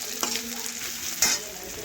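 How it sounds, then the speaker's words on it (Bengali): Onions frying slowly in a pan until reddish-brown for a chicken curry, a steady close sizzle with two brief stirring scrapes, no voices. "পেঁয়াজটা আমি বেশ কিছুক্ষণ সময় নিয়ে একটু লাল লাল করে ভেজে নিচ্ছি।"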